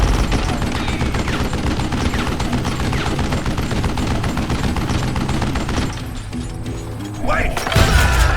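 Dense, rapid gunfire rattles through a cowboy video game shootout, loud and continuous with mechanical clatter, then thins out before a final burst of shots; a voice talks over it.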